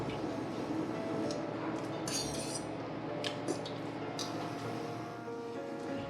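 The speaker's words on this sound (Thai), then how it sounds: "เราจะตั้งน้ำให้เดือดนะครับ แล้วเอาวุ้นเส้นลงลวกก่อนเลยครับ" Glass noodles go into boiling water for blanching in a kitchen, with a steady rolling bubble and hiss under a few light metallic clinks of utensils against the pot, close and moderately quiet, no voices.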